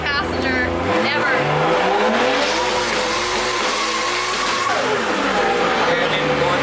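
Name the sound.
Nissan S15 accelerating through quick DCT gear shifts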